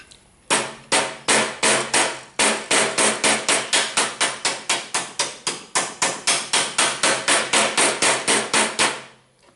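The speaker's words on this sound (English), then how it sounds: "Now take the hammer" Steady hammer blows on metal strips being shaped for a 1931 Chevy rat rod radiator grill, around thirty sharp ringing strikes in an even rhythm, loud and close with no talk.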